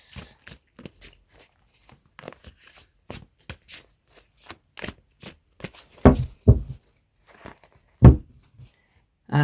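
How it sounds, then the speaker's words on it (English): A tarot card deck is shuffled by hand in quick, crisp riffles and taps, a run of short close snaps with a few louder bursts near the end and no talk. "I want to give that another shuffle"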